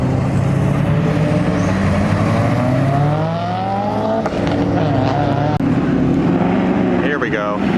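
A Toyota Supra at a car show revs hard and pulls away, its loud engine roar climbing through the gears up close amid crowd chatter and voices talking.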